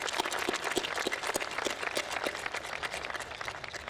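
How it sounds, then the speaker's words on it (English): A graduation audience claps for the families of the graduates, a dense patter of many hands sounding from a distance at moderate volume, steady for the whole stretch with no voices standing out. "please join me in a round of applause for the families that supported you"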